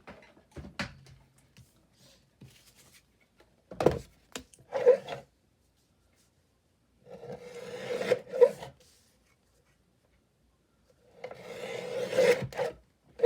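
Edges of a paper journaling card being trimmed, heard as a few separate raspy cutting bursts with quiet pauses between them, close and fairly loud.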